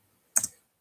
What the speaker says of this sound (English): I'm just typing the first message now.